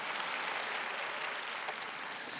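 Sustained applause from a church congregation during a Sunday anniversary revival service, an even wash of many hands clapping at once, filling the room without a break.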